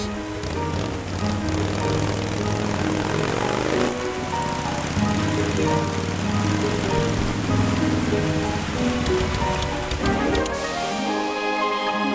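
Cartoon rain pours from a ceiling indoors, a steady patter of falling drops under tonal music and effects that carry through the whole stretch, with a brief break partway.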